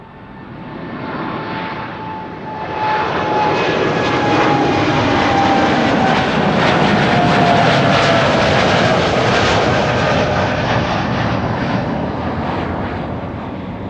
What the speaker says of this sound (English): here's the TUI Dreamliner already rolling